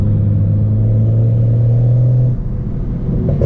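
A turbocharged car engine roars loudly and steadily on a canyon road, revving hard with a deep drone, then briefly drops before picking back up, close and continuous.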